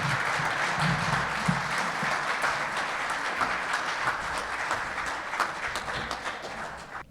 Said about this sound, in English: let's give a round of applause to these talented women